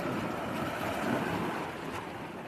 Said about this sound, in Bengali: ঢেউটা আসছে শুধু দেখুন।